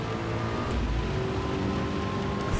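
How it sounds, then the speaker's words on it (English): Steady rain hisses over a race in Gran Turismo 7 with a Ford GT Spec II LM race car on the Le Mans circuit, a constant wash of noise under a droning engine tone with no break. "As the rain comes down."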